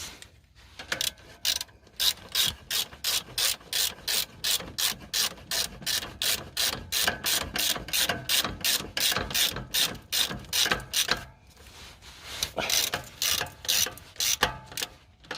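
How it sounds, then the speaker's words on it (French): A 13 mm ratchet wrench tightens nuts while fitting a turbo on an Opel Astra H 1.7 CDTI, giving long runs of close, crisp, rapid clicking in steady rhythm, with a short pause before the clicking resumes. "On va essayer de serrer. Clé de 13."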